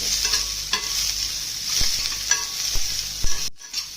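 Chopped onion frying in oil in a pan for a coconut-free chutney to go with idli, dosa and vada, a steady close sizzle broken by a few sharp clicks of a spoon stirring, with a brief drop in the sound near the end.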